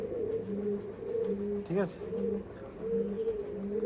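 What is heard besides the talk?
Andhra pigeons cooing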